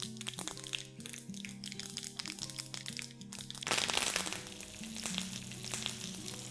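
Urad dal and curry leaves crackle in hot oil for rasam, a bright popping sizzle that swells midway, partly under background music.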